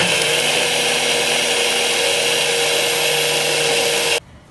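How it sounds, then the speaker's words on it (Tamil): A mixer grinder, its lid on, blends tomatoes and onions with a little water into chutney. The loud, continuous whirring runs for about four seconds, then cuts off abruptly. "மூடி போட்டு அரைச்சிக்க போகிறேன்."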